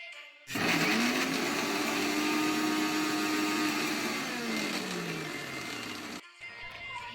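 An electric mixer grinder runs loud and steady for about six seconds, blending peeled, cooled boiled sweet potatoes into puree with a steady whine that dips slightly in pitch toward the end before cutting off.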